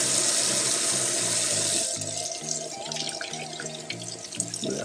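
Tap water runs into a sink while a dental diagnostic cast is rinsed and brushed, a steady loud splash that softens after a couple of seconds as the cast is moved, with a light hum of background music.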